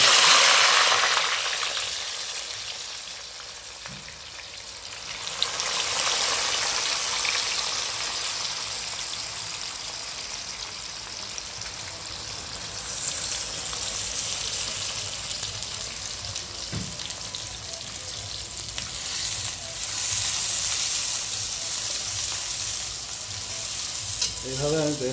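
Sliced onions fry in hot oil for biryani beresta, giving a dense, continuous sizzle and hiss that briefly quiets then swells again, with a few faint stirring knocks.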